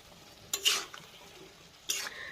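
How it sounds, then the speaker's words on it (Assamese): Local chicken meat coated in masala paste and turmeric stir-fried in a pan, two distinct scraping stirs of a spoon over a soft, steady sizzle. "দি দিলোঁ, দি পেলাই লৰাই ভাজি থাকিম"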